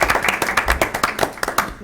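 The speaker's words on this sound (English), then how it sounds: "I was waiting for the clap." Board members at a school board of education meeting clap after approving the consent agenda, a loose burst of separate, fairly close handclaps with an uneven rhythm over almost two seconds.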